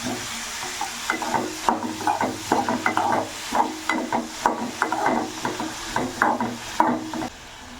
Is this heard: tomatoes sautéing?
yes